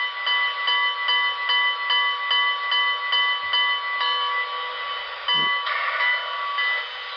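The bell of a BLI Reading T1 4-8-4 HO scale model steam locomotive rings in quick, even strokes, a bright tinny clang repeating steadily over a faint hiss, close and loud throughout.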